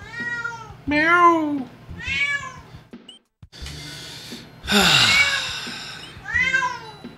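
Several loud, close meows from a house cat, each long and wavering, separated by brief pauses, with a sharp breathy hiss-like burst in the middle and faint background hum.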